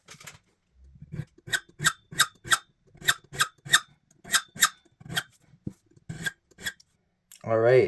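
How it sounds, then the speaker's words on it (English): A metal file rasps across a lock key blank being shaped for impressioning, a series of short, crisp strokes in an uneven rhythm, close and fairly quiet, ending with a brief louder rustle. "All right, the 13th round of filing has left us here."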